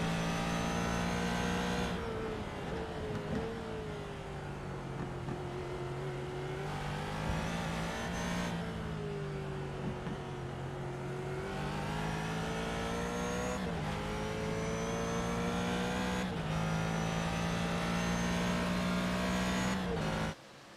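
GT race car lapping Sebring International Raceway in a sim racing game, a steady engine drone rising through the gears with abrupt shift drops and brief tire squeal, heard continuously with faint talk underneath.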